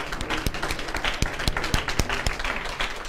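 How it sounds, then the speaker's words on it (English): A church congregation at a Sunday service stands and applauds, many hands clapping in an even patter with a few sharper, louder claps standing out close by. "Would you stand and please give them an applause?"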